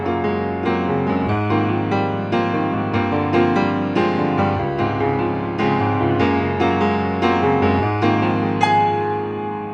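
Solo piano playing a passage from an original composition, a steady stream of ringing notes and chords with sustained resonance, close and moderately loud with no voices.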